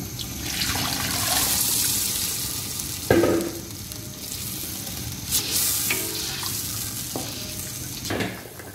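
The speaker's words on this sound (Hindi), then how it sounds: "इस वक्त अब चावलों में डाल रहे हैं पानी" Water is poured from a glass into rice in a cooking pot, 2.5 glasses of water over 1.5 glasses of rice. It comes in several splashy pours broken by clinks and knocks, close by and with no talking.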